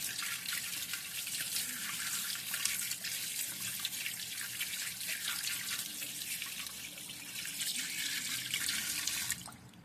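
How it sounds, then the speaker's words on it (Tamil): Tap water runs steadily into a sink as a cleaned crab is washed, a continuous splashing hiss that holds for about ten seconds before cutting off at the end, with no talking. "இப்போ நம்ம அந்த உள்ளே இருக்க வேஸ்ட் எல்லாம் எடுத்துட்டு டேப் ஓப்பன் பண்ணி நல்லா வாஷ் பண்ணிக்கலாம்"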